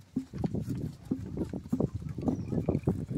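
An ox pulls an ox cart through the semi-arid Brazilian northeast, and its hooves thud irregularly over rough ground. A man calls and urges the ox along over them.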